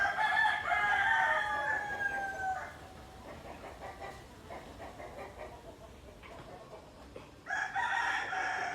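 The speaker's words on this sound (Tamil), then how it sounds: "இதெல்லாம் பொட்டைக்கோழி." Hens cluck in a poultry yard, with a rooster crowing loudly near the start and again at the end and softer clucking and farmyard noise in between.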